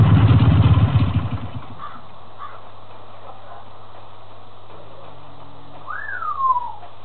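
A parrot in the survival game Last Day on Earth gives a single rising-then-falling whistle, fairly faint against a low steady game hum, after a rumbling engine-like noise fades out at the start.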